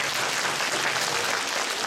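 Concert audience at a bard song evening claps in dense, steady applause, a continuous close wash of many hands without voices over it.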